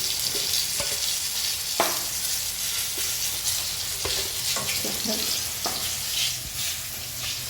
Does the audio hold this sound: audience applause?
no